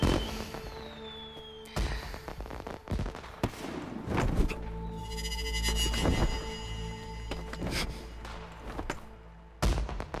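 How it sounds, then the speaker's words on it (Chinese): Fireworks burst over a palace celebration, a string of sharp booms and crackles at irregular intervals with lingering rumble and ringing tones between them, fairly loud and without speech. "也能看到这么漂亮的烟花"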